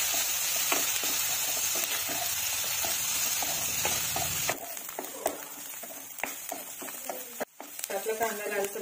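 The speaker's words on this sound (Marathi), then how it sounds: "आपल्याला कांद्यामध्ये लसूण, अद्रक ह्याला चांगलं लालसर भाजून घ्यायचं आहे." Onion, garlic and ginger fry in a kadhai for a spicy Khandeshi dhaba-style shev bhaji, with a steady close sizzle, scattered stirring clinks and scrapes, and quieter crackling after about halfway.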